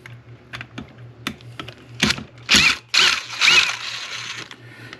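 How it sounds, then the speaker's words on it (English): A screwdriver backs T25 Torx screws out of an Echo PAS-225 weed eater during a coil repair. Light irregular clicks and ticks give way to louder ratcheting, scraping bursts, close up with no talk. "It's a T25, so we'll take this and back these screws out."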